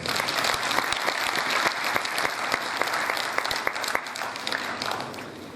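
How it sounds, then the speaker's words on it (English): A graduation ceremony audience breaks into sustained applause, a dense, steady wash of many hands clapping at once that holds loud throughout before easing slightly at the end. "I thought you'd give a round of applause."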